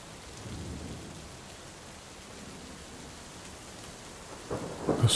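Thunderstorm with steady rain hissing on surfaces, a low rumble of distant thunder early on, and a sharper, louder crack building near the end.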